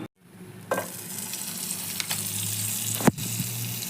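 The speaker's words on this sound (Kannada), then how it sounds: "ಪ್ಯಾನ್ಗೆ ಒಂದು ಸ್ಪೂನಷ್ಟು ಬೆಣ್ಣೆ ಹಾಕ್ಕೊಳ್ಳಿ" A spoonful of butter melting in a pan for tawa pulao, producing a steady close sizzle with a couple of brief clinks of a spoon against the pan.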